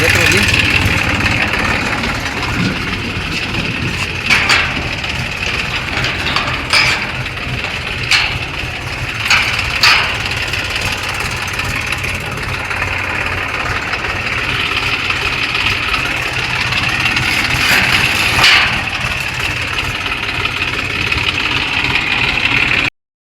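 A tractor engine idles steadily on a farm during rain while a trolley is loaded, a continuous mid-low rumble with occasional sharper clatters, and someone talks over it throughout.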